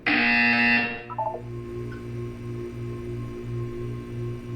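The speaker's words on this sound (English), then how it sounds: "You will hear a buzzer." A Portal 2 video game buzzer sounds as a loud, steady tone for about a second, then falls silent. A low, pulsing electronic hum and soft chiming tones continue faintly in the background.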